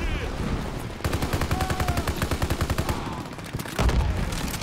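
Rapid automatic gunfire in Call of Duty WWII: a long, dense string of evenly spaced shots, loud and close, with a short gap and then a heavier burst near the end, partly under a voice.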